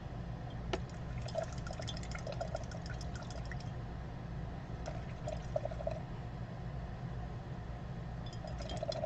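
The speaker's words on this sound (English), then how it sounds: "A little bit of swishing in my jar of water here, just to make sure I get that off." A paintbrush swishes in a jar of water during card painting, making quiet, continuous sloshing and light clinks under a steady low background hum, with no talking.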